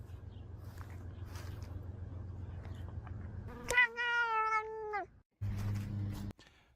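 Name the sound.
cats meowing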